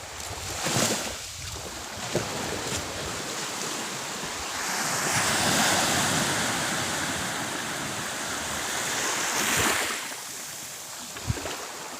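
Steady roar of sea surf washing onto the shore at Sabangan beach, swelling louder in the middle, with wind buffeting the microphone.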